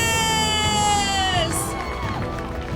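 Wedding guests cheer and whoop for the newlyweds, a crowd of voices rising in excited shouts over lively background music, close and loud.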